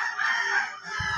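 Chickens on a small backyard mini farm, one bird letting out a short, loud crowing call lasting about a second, close by with no talk.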